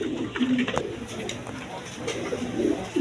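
Pigeons of several breeds in a pigeon seller's stock give soft, low coos, repeated at uneven intervals, with faint voices and background noise around them.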